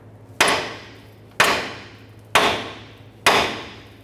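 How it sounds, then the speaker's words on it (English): A hammer strikes the steering knuckle of a 2008-2012 Honda Accord to free the ball joint from the lower control arm: four sharp metallic blows, evenly spaced about a second apart, each ringing briefly. "we're going to go ahead and strike our knuckle to separate the ball joint from the lower control arm"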